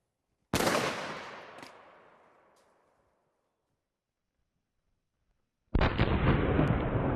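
A TC Triumph muzzleloader blows apart in one loud, sharp blast with a long decaying rumble, followed by silence and then a second loud burst of noise.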